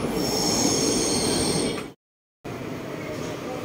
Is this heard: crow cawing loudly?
no